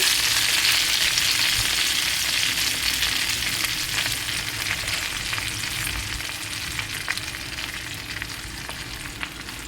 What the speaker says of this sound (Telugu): ఈ ఆయిల్లో గోంగూర వేస్తున్నాను.